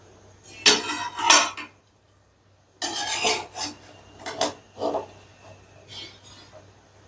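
A pot lid scraped and lifted off cooked rice, giving clattering metallic rubs. A short quiet gap follows, then more scrapes and clinks of the pot, close up with no voices.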